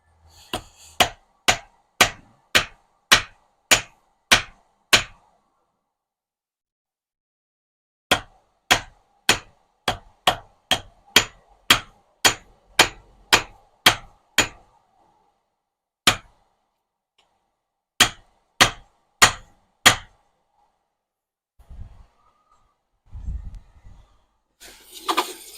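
A blacksmith's hammer rings sharply on hot metal while forging smithing tongs in a backyard smithy, in fast evenly spaced strikes grouped into bursts with short pauses, close and clear, followed by faint rustling.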